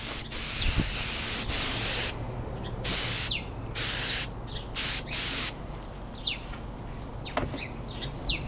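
Clear coat is sprayed over decals on Honda NS250R motorcycle parts outdoors, in loud repeated hissing bursts of about half a second to a second. Birds chirp between the bursts.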